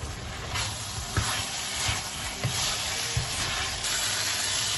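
Lamb karahi meat frying in oil with a little stock sizzles loudly and steadily up close, with occasional spoon scrapes and knocks in the pan and no talking.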